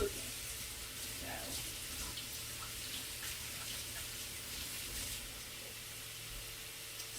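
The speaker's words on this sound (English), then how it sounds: "And I'll wash my hands" Running water from a kitchen faucet as hands are washed, a steady, faint hiss of flow with small splashes, continuing evenly throughout.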